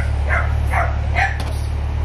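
A French bulldog puppy gives three short, close barks or yips spaced about half a second apart over a steady low hum, with no talking.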